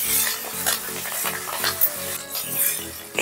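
Curry leaves and turmeric being stirred into onions frying in oil for small gooseberry rice, with a steady sizzle and repeated scraping strokes of a spoon against the pan, close and continuous with no talk.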